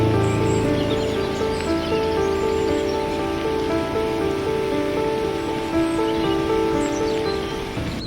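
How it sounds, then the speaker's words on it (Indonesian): Steady rain patters on a surface beneath gentle sustained music, a soft even hiss that stays constant for about eight seconds. "Seorang kakek duduk sambil mendengar hujan menari"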